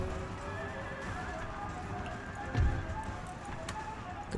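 Cavalry horses in the video game Empire: Total War, with steady clip-clop hoofbeats and whinnying over a dense battle din. One louder neigh stands out midway.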